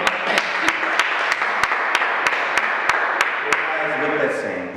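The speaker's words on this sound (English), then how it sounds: "Round of applause." A live audience gives a round of applause, a dense, steady wash of clapping running the whole stretch at moderate loudness, with sharp periodic claps or beats standing out and a voice talking over it near the end.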